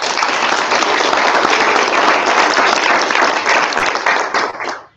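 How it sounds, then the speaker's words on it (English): An audience at a college recruiting conference applauds two presenters, dense steady clapping for nearly five seconds before stopping abruptly. "Please give them a round of applause."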